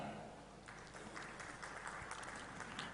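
Audience applause for speakers at an e-governance conference session, a brief, even wash of clapping from a seated crowd heard at a distance.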